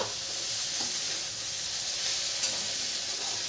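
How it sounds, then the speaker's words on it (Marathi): Okra (lady finger) with salt sautés in a pan, a continuous close, even sizzling hiss with a faint tap or two, no voices. "आता भेंडी परतवून घेऊ"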